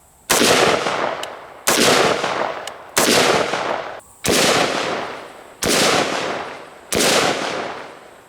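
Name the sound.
gunshots from a Windham Weaponry AR-15 rifle, 5.56/223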